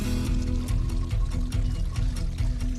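Runoff water pours into a container as it fills, a steady close splashing gush with faint rhythmic surges and no talking.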